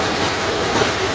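A passenger train on the line to Ella runs steadily on its rails, a loud continuous rumble with faint clickety-clack beneath, heard from inside the carriage.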